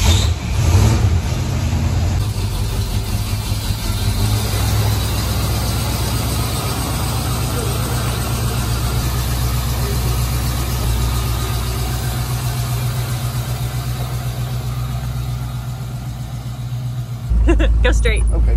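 A lifted Ford Bronco that drives like an old truck runs its engine at a steady low rumble for most of the drive, with people talking in the cab over the sound.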